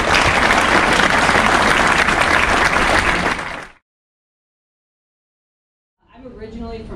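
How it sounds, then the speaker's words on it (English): A crowd at a Kiwanis Club recruit-salute event applauds loudly and steadily for nearly four seconds before the clapping cuts off to silence. A voice starts speaking near the end. "If we can get a round of applause for them."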